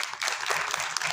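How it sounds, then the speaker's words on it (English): An audience applauds steadily at a university book review competition in Pakistan, dense clapping filling the room for about a second at moderate distance. "Ms. Mehreen Ilahi, please give a big round of applause."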